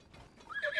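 A horse neighs in the video game Zelda Tears of the Kingdom: a short whinny that rises out of quiet background noise and grows louder and brighter toward the end.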